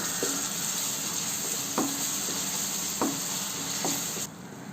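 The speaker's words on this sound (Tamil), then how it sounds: "இஞ்சி பூண்டு பேஸ்ட்டையும் ஆட் பண்ணிக்கலாம் ஆட் பண்ணி நல்லா கிளறி விட்டுக்கலாம்" Ginger garlic paste sizzles and fries in a pan with onions, a steady hiss broken by four or five distinct scraping stirs at uneven intervals, close and fairly quiet, with no voices.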